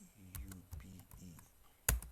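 Someone types a captcha on a computer keyboard while logging in to an admin dashboard: a handful of light, irregular key clicks, with one sharper, louder press near the end.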